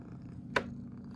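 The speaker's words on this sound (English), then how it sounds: "all we can hear is Milo purring right now" A cat purrs quietly and close by, a low steady rumble that runs through the whole short clip and is broken once by a brief soft click.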